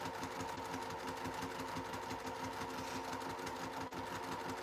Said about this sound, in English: Back stitch to reinforce that opening.